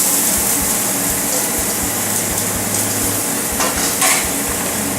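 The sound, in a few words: oil sizzling on a flat top griddle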